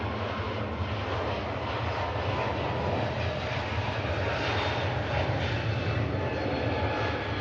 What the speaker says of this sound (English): Turkish Airlines Airbus A321neo heading back to Istanbul.